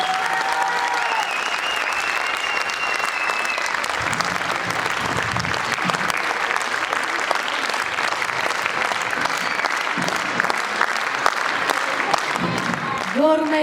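An audience claps loudly and continuously at a vocal studio concert, a dense, sustained round of applause from a crowd, with brief cheers or voices mixed in.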